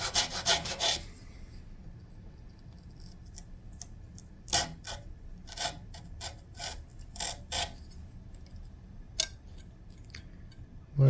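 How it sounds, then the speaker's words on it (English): A wooden dowel is trimmed by hand for a bridge pin repair on a Takamine ST212 12-string acoustic guitar, giving close, quiet bursts of rasping and sawing strokes separated by pauses. "And trimming the dowel as per the instructions."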